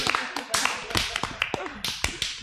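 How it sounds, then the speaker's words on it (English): A few scattered hand claps, a short sparse burst of applause with sharp individual slaps, heard alongside voices talking in a room. "Clap your hands for yourself."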